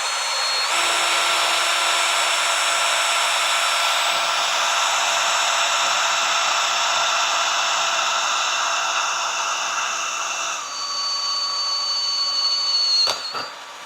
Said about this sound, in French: le perçage est quand même relativement efficace et assez rapide